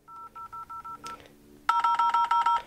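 iPhone dialer keypad on iOS 11.2.5 sending DTMF tones, a quick run of short beeps, a brief pause, then a second louder burst of rapid key tones, close and clear.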